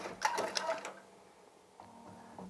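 Ricoma MT-1501 embroidery machine making its first stitch-out, a close run of rapid clicking stitches that fades into a quieter hum before a few more mechanical clicks.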